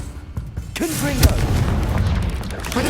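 Fiery blast spell in Hogwarts Legacy, a booming burst with crackling rumble that swells and lingers over game noise, with a voice speaking over it.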